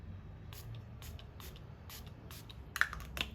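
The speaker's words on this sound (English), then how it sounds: "spray it off with the Milk Hydro" Several short bursts of cosmetic setting spray misting onto a face, soft airy hisses repeated in quick succession, with a louder spritz near the end.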